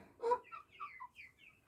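A young rooster gives a short series of soft clucks and chirpy calls, close and quiet, with no talking.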